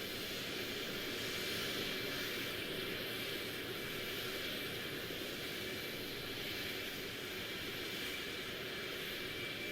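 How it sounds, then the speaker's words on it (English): An airplane taxiing on a runway in the truck-driving game American Truck Simulator gives a steady, continuous engine roar and whine that holds evenly throughout, with no talk. "It's just going to demonstrate the taxiing technique."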